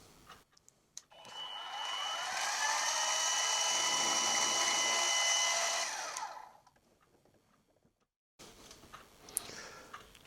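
A drill runs through a hole in a steel collar for a Quorn Mk3 tool grinder, a steady high whine lasting about five seconds then spinning down, followed by quiet and a few light workshop clicks.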